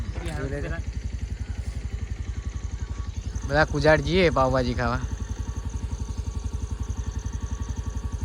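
A motorcycle engine putters steadily throughout with a rapid pulsing beat, while people talk loudly over it in the middle.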